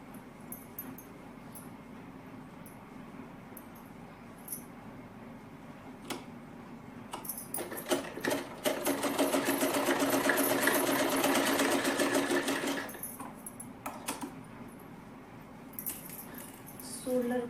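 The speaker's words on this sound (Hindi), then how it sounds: "हमें सिलाई लगानी है कुछ इस तरह से।" A sewing machine stitches the shoulder seam of a small child's top, running in a fast, steady mechanical whir for several seconds, with quieter ticking and handling sounds before and after.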